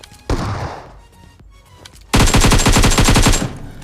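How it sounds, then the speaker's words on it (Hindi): Gunfire in PUBG Mobile: a single loud shot with echoing tail, then after a pause a rapid, close burst of automatic fire lasting over a second. "और यहाँ पर चलती है फायरिंग।"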